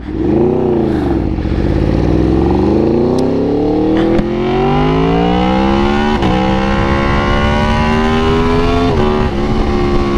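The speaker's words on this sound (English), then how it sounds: "Oh, of course, there's a car coming." A car passes close by, its engine tone rising and then sliding as it goes past, loud and steady against constant road and wind noise.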